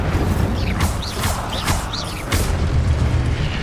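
An Incendio fire spell is cast in Hogwarts Legacy, several loud booming bursts with whooshing, crackling flares and short rising magical chirps between them, close and forceful over a rumbling game background.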